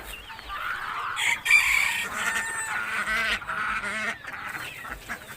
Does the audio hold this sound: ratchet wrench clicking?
no